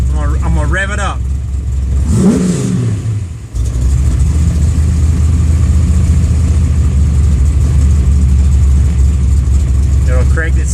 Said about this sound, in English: I'm gonna rev it up.